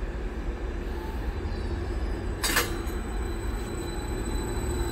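Train departing Lowestoft station, heard as a steady low rumble of moving rail cars with a brief wheel squeal midway, fairly close and continuous.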